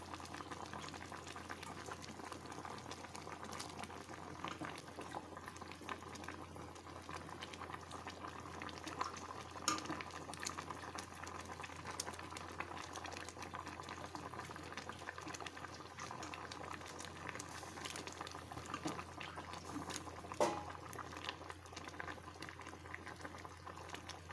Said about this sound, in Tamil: இப்போ பாருங்கள் குழம்பு நல்லா கொதித்து மாங்காய் வெந்துருச்சு